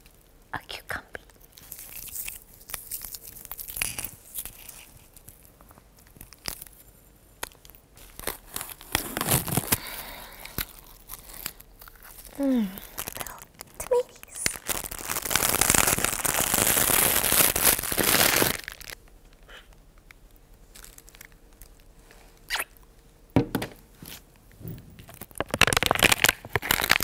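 Packaging crinkles and rustles up close as a supermarket haul bag is rummaged through, with bursts of crackling plastic that swell in the middle, mixed with soft close whispering.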